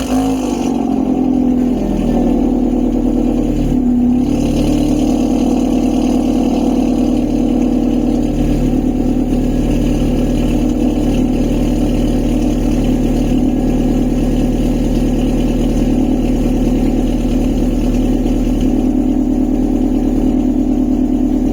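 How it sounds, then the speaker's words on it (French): A Suzuki Swift Sport's engine idles steadily while warming up, a close, even, continuous hum with no revving, alone without voices. "Là je laisse encore la voiture tourner."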